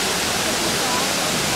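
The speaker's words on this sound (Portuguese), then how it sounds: "menos esta cascata é linda" Waterfall rushing at a trial motorcycle event in Gouveia, Portugal, a steady broadband roar filling the whole clip without break, loud and close.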